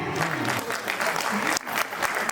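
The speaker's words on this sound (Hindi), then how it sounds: "जोरदार तालियां अपने लिए बजा लीजिए एक बार" Audience applause at a large live stage show with a crowd of lakhs, dense clapping filling the space steadily and loudly, with a brief dip near the end before it swells again.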